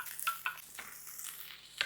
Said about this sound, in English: Just going to stir it around a little bit